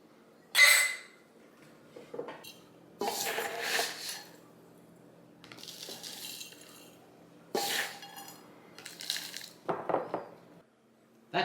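Glass quart jars clink and rattle as oxygen absorbers and freeze-dried cooked ground beef go in, a series of bright glassy knocks and scrapes in bursts with quiet gaps, close by and with no talking.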